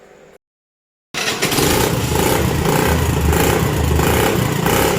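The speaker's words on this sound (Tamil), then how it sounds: "வண்டியும் கரெக்டாக ஸ்டார்ட் ஆகுது" After a brief moment of silence, a Honda Activa scooter engine starts up and runs, holding a steady, close, buzzing idle with slight throttle swells.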